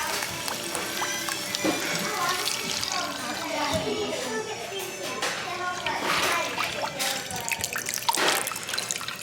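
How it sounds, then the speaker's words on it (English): Beef broth pours into a pot holding a seared roast, making a steady liquid trickle and splash with some drips. A voice speaks faintly underneath. "I'm going to add in the beef broth"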